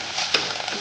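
Frying chili for fish curry being stirred in a pan, with a steady close sizzle and a single sharp scrape of a utensil partway through.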